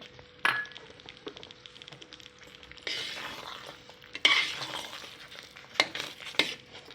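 Aravana payasam being stirred with a spoon in a pot after dry ginger and cardamom powder are added, giving soft scraping strokes and occasional light clinks of metal against the vessel, close by with no talk.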